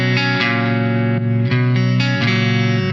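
Sustained electric guitar chords through a solid-state amp with the EQ pedal bypassed ring out loud and close, with several fresh strums in a steady rhythm.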